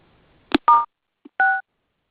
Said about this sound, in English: We're calling her on a separate cell phone to let her know to dial back in.